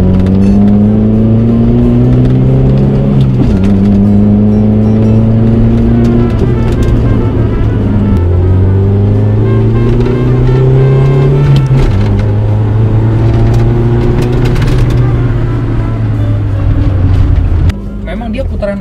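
A Toyota Starlet EP71 accelerating hard on a test drive, its engine note climbing in repeated rising pulls with brief drops between gear changes, loud and close throughout.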